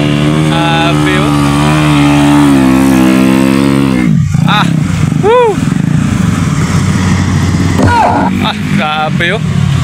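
A trail motorcycle's engine revs hard and loud nearby, holding a high droning pitch, then dropping and surging in rising bursts; shouting voices seem to carry over the engine noise.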